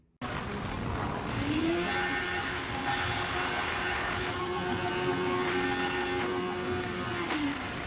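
A Kawasaki Ninja 650 motorcycle with a failed clutch revs hard on a freeway, its engine note climbing to a high, sustained whine with steady wind and road roar throughout and no talk.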